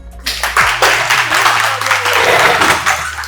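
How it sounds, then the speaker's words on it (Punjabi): Audience applause for a student at Orane International in Bathinda, dense steady clapping from many hands filling the room, starting after a brief pause and holding loud and even throughout. "ਸੋ ਕੁੜੀ ਲਈ ਤਾੜੀਆਂ ਲਾ ਦਿਓ ਜੀ"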